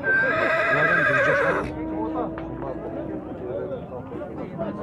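A mare at a livestock market gives a loud, high whinny for just over a second, then hoof clops and the murmur of the crowd and traders' talk carry on behind it.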